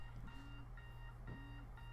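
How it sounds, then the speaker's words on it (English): A phone alarm chimes in a repeating electronic pattern, rising tones sounding twice over a steady low hum, faint and close. "My phone alarm's going off."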